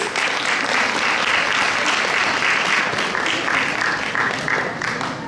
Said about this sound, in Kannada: ಇನ್ನೊಮ್ಮೆ ಚಪ್ಪಾಳೆ ತಟ್ಟಿ ಪ್ಲೀಸ್